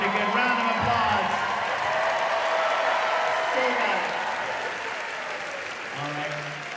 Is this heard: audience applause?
yes